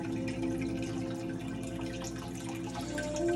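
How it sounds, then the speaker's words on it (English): An aquarium bio wheel filter runs on a 20-gallon fish tank, giving a soft continuous trickle and drip of water with a faint steady hum, quiet and close, no talking. "Fully functional bio wheel. Got it going."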